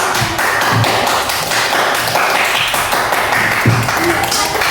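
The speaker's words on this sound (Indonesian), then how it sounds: "Kasih tepuk tangan untuk" A primary school class claps hands together in a steady, dense burst of applause lasting several seconds, with taps and thumps mixed into the clapping.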